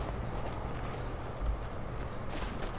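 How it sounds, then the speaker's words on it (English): Horses' hooves clip-clop on the ground in Skyrim, a steady walking patter heard at moderate distance over wind and ambient game background. "Oh, there are horses."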